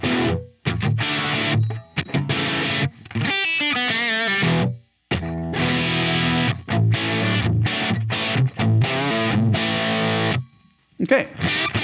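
Distorted electric guitar with a crunchy tone dialed in on a Line 6 Helix, with chords and riffs played loud with short pauses between phrases, alone and without talk.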